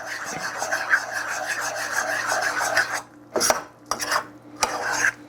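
A spoon scrapes and rubs against a bowl of hot cereal, first in a steady stretch, then in several short separate strokes.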